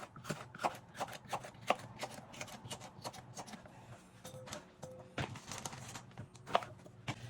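A knife slices through ripe peppers on a cutting board in a quick run of soft, crisp taps and clicks, close and fairly quiet, with brief pauses between cuts.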